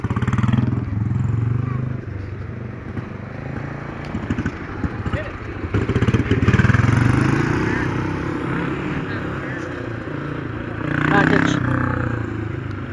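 Small quarter midget race car engine at a West Liberty, Ohio track, sputtering and revving unevenly through repeated start attempts, with a louder burst near the end, while people talk over it.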